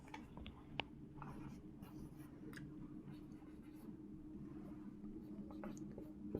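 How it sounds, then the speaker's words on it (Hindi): Pen or marker strokes on paper or a board during a classroom lesson, soft scratchy bursts repeating at an even pace over a steady low hum, with no talking. "नीचे लिखते हैं"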